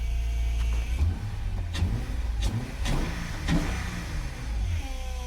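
A 2005 Acura TL A-Spec starting up with a terrible whine: loud engine rumble with a high whining tone, a few sharp mechanical bursts in the middle and the whine sliding upward at the end.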